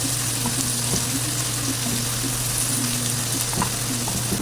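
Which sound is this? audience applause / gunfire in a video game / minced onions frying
minced onions frying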